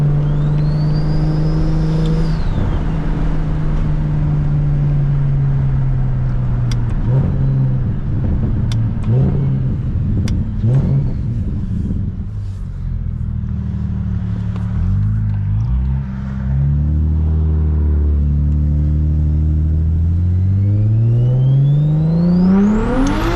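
A BMW E92 335i engine drones loud and close through a long acceleration, pitch climbing and dropping through gear changes with a rising rev at the end, no talking.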